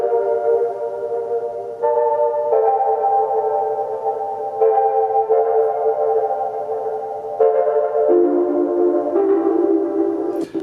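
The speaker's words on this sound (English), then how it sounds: "I'm using the Don't Cry preset for my keys," R&B keys chords on a soft, echoing Don't Cry preset, sustained and changing every second or two over a steady low bed, warm and continuous with no voices.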